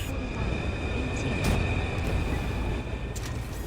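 A train set on fire in a police role-play video game gives a steady, loud mechanical rumble with a faint hiss. It runs without a break for the whole stretch, with muffled voices in the background.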